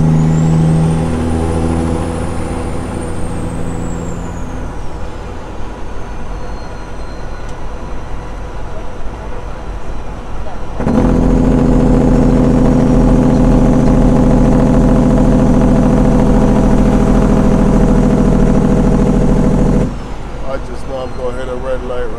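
A Peterbilt 379 truck with a 7-inch straight pipe and a CAT engine, shifting gears on an 18-speed, loud close diesel drone that drops, then surges in a deep steady pull, with someone talking over it.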